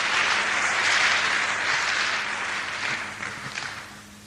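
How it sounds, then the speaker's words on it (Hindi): Audience applause at a business meeting, a broad wash of many hands clapping that swells early and gradually fades over about four seconds, with no talk over it. "जोरदार तालियां आएंगे।"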